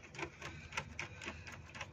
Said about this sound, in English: we're gonna lose these clamps with a flathead screwdriver